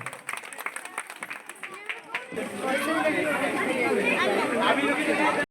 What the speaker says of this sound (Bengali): আরে জোরে হাততালি হই যাক ওঠার জন্য প্রত্যেকের জন্য হ্যাঁ